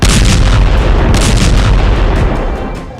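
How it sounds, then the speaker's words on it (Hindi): A heavy explosion by the gate of Al-Shifa hospital lands as a loud, dense roar, a sustained booming rumble with crackling bursts that slowly fades, with no voices over it. "आईडीएफ का बारूद अल शिफा हॉस्पिटल के गेट के पास गिरा"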